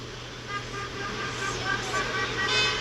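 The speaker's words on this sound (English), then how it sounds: "And everybody honking." Traffic rumbling along Roswell Road in Marietta during a protest, with faint scattered horn toots rising over steady road noise and crowd sounds.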